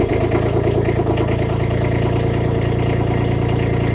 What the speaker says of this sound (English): I'm just going to push run over here, and we'll see if we can get this going for its first start